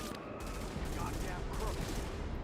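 Sustained gunfire in the video game The Division, a dense, continuous fusillade of rapid shots filling the whole stretch at steady loudness, with no talking over it.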